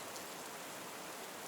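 Steady rain falling at night, an even, dense hiss of drops with no breaks, moderately quiet and alone.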